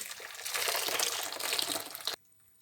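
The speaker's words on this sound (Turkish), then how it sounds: "Daha sonra üzerine yine kaynamış suyu ekliyorum." Boiled water poured over two tablespoons of salt in a container, a loud close rushing splash lasting about two seconds and then stopping abruptly.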